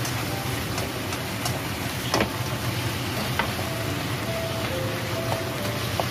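Ginger, garlic and soy sauce fry in hot oil in a pan, giving a steady close sizzle and hiss with small scattered pops and ticks throughout.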